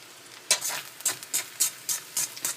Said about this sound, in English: I will stir it all up, bring the bottom to the top and vice versa